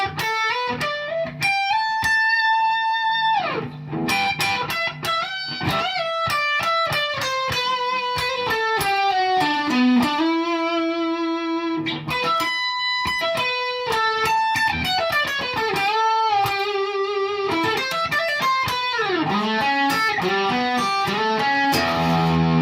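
An electric guitar plays the intro solo of a song, with clean-to-driven melodic lines, bends and sustained notes, loud and continuous with no voices.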